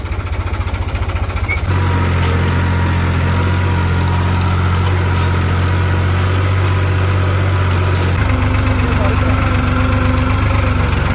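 A New Holland 3630 tractor engine runs steadily throughout, a loud, close diesel drone with a low rumble and a shift in pitch partway through as the revs change, with no talk over it.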